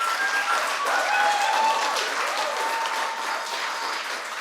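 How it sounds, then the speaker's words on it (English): Sustained audience applause for a special guest at an evening show, dense, steady clapping from a crowd that holds at full strength and eases slightly toward the end, with faint whistles over it. "Give a round of applause for our special guest this evening, Charlyboy Charles Oputa."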